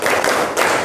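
Schoolchildren in a classroom doing a clapping game's first pattern, a short burst of a few quick claps together, close and fairly loud, with no talk.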